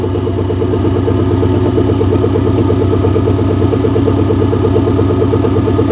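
A flathead V8 engine idles slightly high close by, loud and even, with a steady throbbing pulse and no other sounds.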